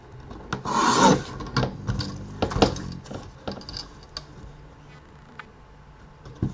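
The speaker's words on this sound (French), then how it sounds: "Là, on va couper le trait." A blade cuts along a paper line for a children's mini album, with close, irregular rasping and scraping strokes, strongest at the start, followed by a few light ticks and taps.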